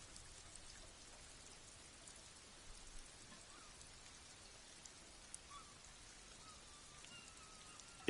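Rain falling in sheets over water, heard as a faint, even hiss with occasional soft drop ticks throughout.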